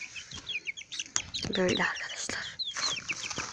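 Chickens cluck and chirp busily nearby in a village, with a rooster call rising briefly in the middle; someone speaks a few words in Turkish over them.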